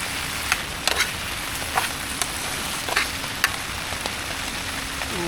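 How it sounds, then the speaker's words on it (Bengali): Steady rain falls at a riverside campsite on a sandbank, with a soft continuous patter and occasional sharper drip-like ticks close by. "কন্টিনিউ বৃষ্টি হয়ে যাচ্ছে"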